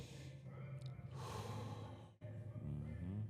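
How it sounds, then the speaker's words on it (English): A slow, deep breath taken during a talk about breath work, with a strong inhale followed by a long exhale, close to the microphone over low background hum. "Let me take a deep breath for that."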